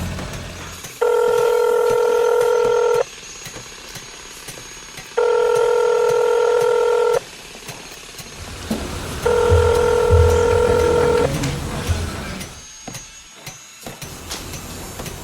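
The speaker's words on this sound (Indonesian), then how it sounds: "saya coba telepon dia" A phone line ringing out: three long, evenly spaced electronic tones with pauses between them, followed by background noise and faint shuffling.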